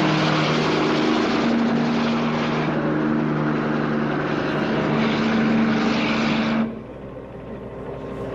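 A chopper flies close by with a loud, steady rotor and engine drone and a low hum, then its level drops sharply near the end as it passes or fades.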